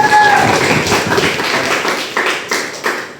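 Students clapping together in a classroom, a burst of applause that thins into scattered claps with a few louder single claps near the end.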